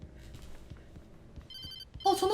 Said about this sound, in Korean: 전화 온다.